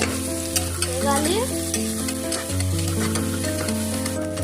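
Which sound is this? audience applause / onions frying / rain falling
onions frying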